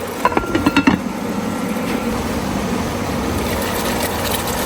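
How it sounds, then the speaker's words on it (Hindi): A metal lid clatters onto a pot of chicken karahi, a quick burst of several close clinks and knocks at the start, followed by steady kitchen background noise. "मज़ीद इसको 5 मिनट के लिए कवर दे देंगे।"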